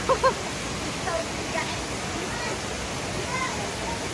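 A waterfall at a swimming spot in the Philippines pours steadily, a constant wash of rushing water with faint voices in the distance.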